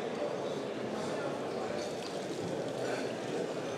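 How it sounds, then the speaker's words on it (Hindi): Water runs steadily from a public fountain near the Grand Bazaar in Istanbul as people rinse cups under it, a continuous splashing trickle with a faint murmur of nearby voices. "लोग अपने कप धो रहे हैं."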